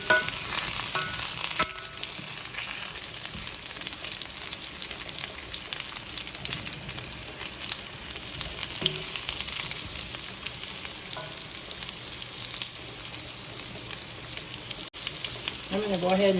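Beets sizzle steadily in a pan, with a wooden spatula stirring them now and then; the frying hiss is constant and close throughout.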